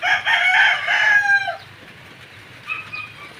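A rooster crows loudly and close, a single drawn-out call, followed by a fainter clucking from another chicken.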